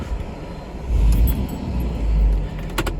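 An avgas fuel truck's engine turns over and rumbles to life at an airfield, a low steady idle swelling louder near the middle, with brief rattles and clinks on top and no talking.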